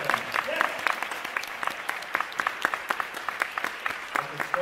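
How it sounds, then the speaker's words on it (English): A concert crowd at a high school band winter concert claps in scattered, distinct individual claps, fairly sparse and close, with a voice speaking faintly underneath. "Give them a round of applause."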